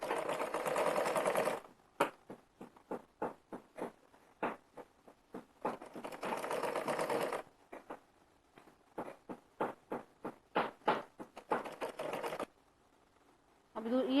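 A sewing machine runs a straight seam on a Rajasthani kurti, with longer steady runs broken by quick start-stop bursts of stitching, close and clear.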